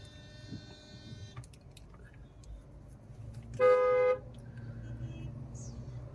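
One car horn honks in a single short blast over low rumble of jammed traffic on an Indian road, with faint shorter toots earlier.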